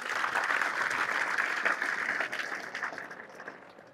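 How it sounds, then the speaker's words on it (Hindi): Loud, sustained applause from a classroom audience at a coaching session for students, dense clapping that gradually thins toward the end. "ताली बजाओ जोरदार।"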